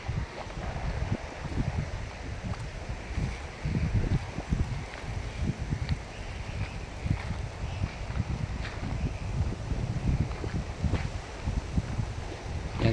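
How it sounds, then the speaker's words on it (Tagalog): Strong outdoor wind gusting into the microphone in a bitter gourd garden, a constant low rumbling roar with rustling, no voices. "So napakalakas ang hangin."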